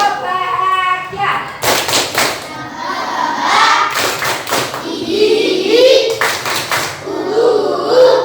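Schoolchildren in an elementary classroom perform the tepuk bahagia clapping chant, sharp bursts of group claps in rhythmic clusters between chanted voices, close and loud.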